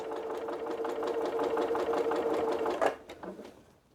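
A sewing machine quilts a Santa cookie rug, running in a steady rapid stitching rhythm for nearly three seconds before stopping, followed by a few faint handling clicks.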